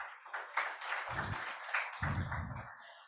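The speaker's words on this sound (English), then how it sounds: "just give them a round of applause for that" Faint, distant clapping from a small group of participants at an African Continental Qualifications Framework training session, applauding Cameroon. The patter is steady and thin for about three seconds, with no voices over it.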